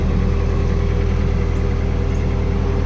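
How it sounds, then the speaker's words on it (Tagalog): A manlift truck engine idles steadily after starting, a constant low rumbling drone with a rhythmic mechanical pulse, close and loud throughout with no talking. "Andarin natin yung makina."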